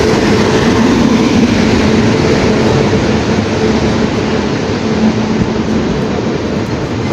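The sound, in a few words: Mysuru Belagavi Superfast Express train passing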